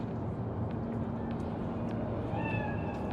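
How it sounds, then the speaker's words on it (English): A cat meows softly a couple of times in Cyberpunk 2077, faint against a steady low ambient hum and background noise, with no talk over it. "Chill, just a cat."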